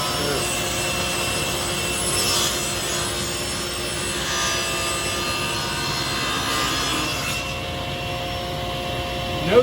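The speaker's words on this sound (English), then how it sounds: "So we will turn on the dust removal, put on our safety gear, start the saw, and push the piece through." A table saw cuts a piece of wood while dust extraction runs, a steady loud whining roar of blade and vacuum that stays even throughout, ending in a short louder burst.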